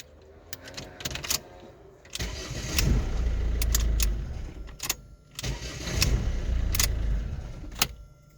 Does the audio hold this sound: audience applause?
no